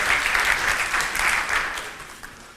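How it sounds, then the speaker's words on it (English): A workshop audience at a growth-strategy talk claps for themselves after an exercise, brisk lively applause that fades out over the final second. "give yourself a big round of applause"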